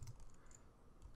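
Typing on a computer keyboard while coding in Corona SDK, soft irregular key clicks running steadily under low room noise, close and fairly quiet, with no talk.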